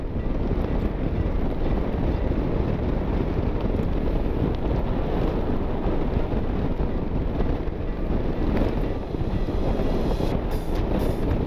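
Strong coastal wind buffets the microphone during a motorcycle tour along Bengkulu's west coast, a loud, steady low rumble filling the whole stretch without letup.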